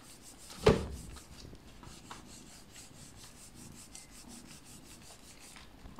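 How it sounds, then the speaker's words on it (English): Polythene rubbed across the soleplate of a household clothes iron during cleaning: one short, sharp scrape near the start, then faint, low rasping and rubbing that stays quiet through the rest. "You can again rub using your polythene."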